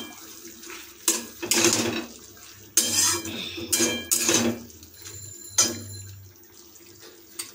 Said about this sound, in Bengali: পোস্ত আর কাঁচা লঙ্কার পেস্টটা যোগ করেছি, তাই এটা আমরা খুন্তিতে কিছুক্ষণ নাড়িয়ে নেব